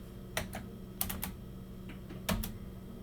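Keys clack on a computer keyboard as a network router command is typed, a few short bursts of close, crisp taps separated by brief pauses, with no talking.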